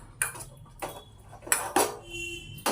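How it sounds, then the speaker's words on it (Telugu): Bommidala fish being mixed with chili powder and salt in a bowl, with several sharp clinks and scrapes of a utensil against the bowl in quick, uneven bursts, close and fairly clear. "కొంచెం కారం, కొంచెం ఉప్పు వేసి కలుపుకోండి"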